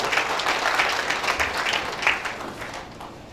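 An audience claps steadily at a staff meeting and annual staff party of a consulting firm. The applause is dense and fairly loud and fades slightly toward the end.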